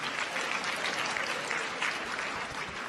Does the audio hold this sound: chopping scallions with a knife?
no